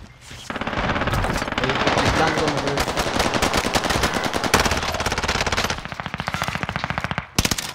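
Rapid automatic gunfire from a gun in a video game, a long dense burst of close, loud shots with brief gaps and some faint voices underneath.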